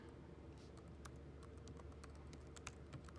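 Quiet, rapid clicking of fingers typing on a computer keyboard as email addresses are entered, with keystrokes coming in quick irregular bursts throughout.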